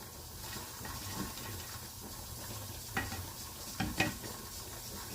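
Onions tossed into ground meat frying for a big batch of chili, a low continuous sizzle with a few short scrapes and stirring knocks toward the end, no voices.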